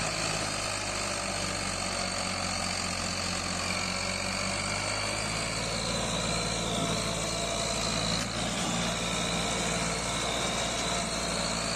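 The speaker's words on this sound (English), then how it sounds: "Alright, here we have a Ford 3610 tractor." Ford 3610 tractor engine running in Punjab, struggling under load: a continuous, even mechanical drone with a steady whine on top, unbroken for the whole stretch and with no voices.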